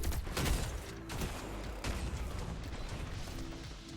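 Rapid automatic gunfire from the Reckless Oracle auto rifle in Destiny 2 rattles in quick bursts amid dense game action, with heavy low-end impacts and mechanical clatter throughout, fairly loud and without talk.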